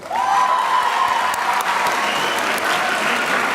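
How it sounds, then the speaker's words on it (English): Applause at a Higher Ground Academy graduation ceremony, a large crowd clapping loudly and continuously with a few cheers and a whistle near the start. "Another round of applause, please."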